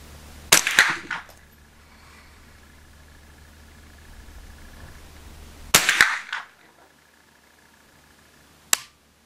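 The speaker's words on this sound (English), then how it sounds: "This time we're shooting with Federal again" Rifle fired at an outdoor shooting range with Federal ammunition: three sharp, loud gunshots spaced several seconds apart, each with a short echoing tail, and quiet background between them.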